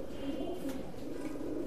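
A pair of Royal Teddy pigeons cooing in a loft, a soft low throaty coo rolling steadily through the brief moment, faint and close.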